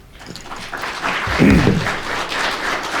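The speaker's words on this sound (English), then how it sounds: "A round of applause for Kaarel." An audience applauds a speaker at the end of a conference talk on cloud database management, giving dense, steady clapping that swells briefly in the middle and carries on for a few seconds.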